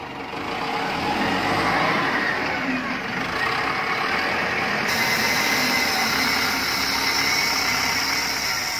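A new Rongwei ZL926A small wheel loader with a one-cubic-metre bucket runs near at steady working revs while scooping sand, its diesel rumbling loudly and continuously with slight swells in pitch, no voices over it.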